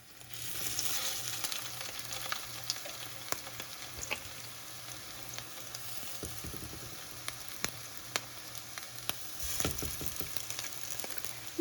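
Tuna cakes frying in a pan, a moderate steady sizzle with sharp oil pops and clicks, a few soft thuds as they are handled, heard close with no voices.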